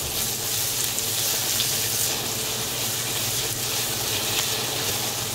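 Onion added to garlic frying in chili oil crackles with a steady, dense sizzle, a continuous close hiss without any break.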